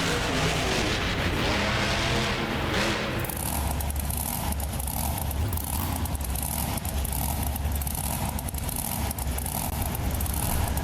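A Chevrolet trophy truck engine in the BeamNG Drive video game at a Monster Jam-style event, heard as a steady, moderately loud rumble. A brief harsher burst comes first, then a continuous engine drone.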